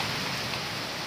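Heavy rain pours down in a steady, dense hiss with no breaks, a continuous wash of drops with no voices over it.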